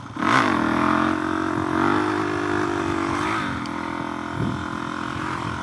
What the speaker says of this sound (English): Let's pull a little wheelie for the farmers.